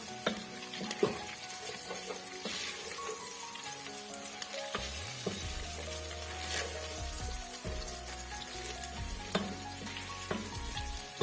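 Onions and spices frying for Taita pilau sizzle loudly in a pot, with a steady hiss broken by occasional stirring scrapes and clinks, heard up close with no talking.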